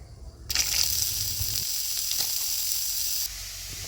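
Chopped papaya dropped into a hot pan with curry leaves sets off a sudden loud, sustained hiss of sizzling that holds steady, then eases slightly near the end.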